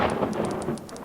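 A lightning blast and thunder from the WorldBox video game sound as a short, loud, rumbling burst laced with crackling taps, with no voices over it.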